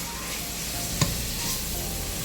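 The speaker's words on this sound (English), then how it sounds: "We just go ahead and start mixing it all together, letting it brown up real good together with some seasoning." Seasoned ground beef browning in a pan as it is stirred together, a steady close sizzle with a sharp scrape of the spoon near the middle, no voices.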